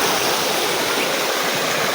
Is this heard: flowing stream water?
yes